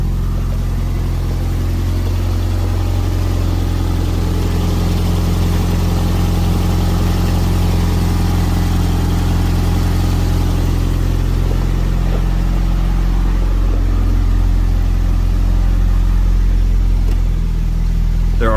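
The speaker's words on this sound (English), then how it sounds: "Throaty exhaust." A 1987 Toyota MR2 with a 4AGZE engine swap idles steadily with a deep, throaty exhaust rumble, then revs up briefly near the end, close and loud with no talking.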